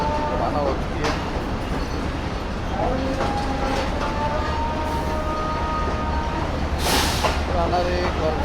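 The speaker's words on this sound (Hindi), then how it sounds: "कराक्रम एक्सप्रेस 42 डाउन लाहौर से कराची के लिए रवाना हो चुकी है।" Karakoram Express, train 42 Down from Lahore to Karachi, pulling out of Lahore railway station in Pakistan: a steady rolling rumble with rail clatter and sustained horn-like tones, with voices on the platform in the background.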